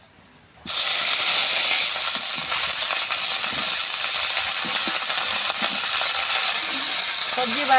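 Chopped carrot, potato, kohlrabi and cauliflower hit hot oil with a sudden loud burst of sizzling, then keep frying in a steady, close crackle with light stirring clinks.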